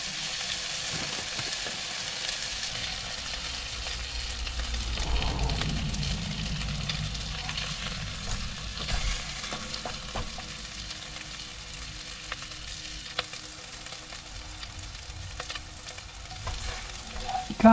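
Burgers frying on a camping stove, a steady quiet sizzle and crackle with occasional clicks over a low background hum, close by, no talking.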